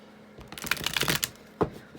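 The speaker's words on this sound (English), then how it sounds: "I'm just going to shuffle a little bit more" A deck of tarot cards being shuffled in quick riffling bursts, close up, with a sharper snap near the end and no talking.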